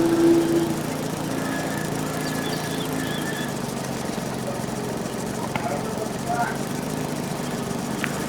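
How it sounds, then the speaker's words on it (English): A lawn mower cutting grass on a property: a steady, droning engine hum that carries on evenly at moderate loudness throughout, with a few faint intermittent squeaks. "Alright, I'm gonna mow"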